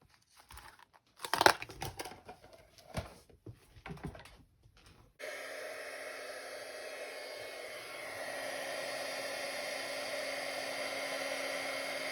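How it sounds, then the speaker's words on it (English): Heat tool blowing hot air for gilding with stamps and heat-and-stick powder, a steady whirring blow starting abruptly midway after soft crinkling and handling noises, faint and continuous, with no talking. "The best thing to do is to preheat your heat tool"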